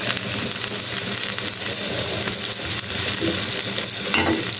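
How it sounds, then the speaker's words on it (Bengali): Small puti fish frying in a pan, giving a dense, continuous sizzle with soft crackling throughout, loud and close with no talking. "তো ভাজা হোক।"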